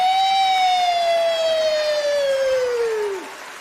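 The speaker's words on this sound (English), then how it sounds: "I need to go sound the suspect siren." A single long siren wail, loud and steady, sliding slowly downward in pitch before cutting off near the end, played during coverage of the 2022 AFC Championship Game between the Kansas City Chiefs and Cincinnati Bengals.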